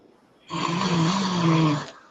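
A single long, loud snore close by, a raspy rattling intake lasting over a second that starts abruptly and fades, heard alone.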